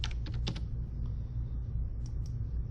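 Email and password typed on a computer keyboard: a few quick key clicks near the start, then sparse taps over a steady low hum, no talking.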